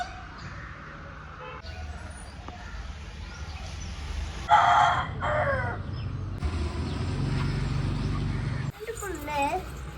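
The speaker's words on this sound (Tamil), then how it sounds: "கோழி புழு சாப்பிடுது கோழி புழு சாப்பிடுது" Chickens cluck and call intermittently over steady background noise, with people talking nearby at a moderate level.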